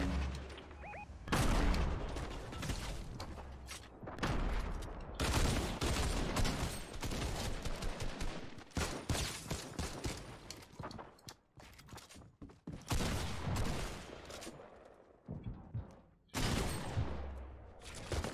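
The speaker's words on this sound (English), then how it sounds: "I have a grenade launcher." Grenade launcher in Fortnite firing again and again, a dense run of loud, booming blasts and explosions with short gaps, continuing for most of the stretch.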